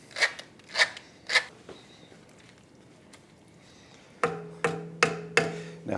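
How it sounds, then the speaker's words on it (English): Twists of a pepper mill grinding black pepper over a pot of chicken stock: three distinct gritty crunches, a pause, then a faster run of four or five grinding bursts, close and clear with no voices. "And some grinds of black pepper."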